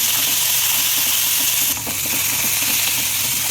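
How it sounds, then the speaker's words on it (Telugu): Oil hisses in a pan while gongura leaves fry for pachadi, making a loud, dense, continuous sizzle with faint crackles throughout. "నూనె పోసుకొని వేయించుకోవాలి."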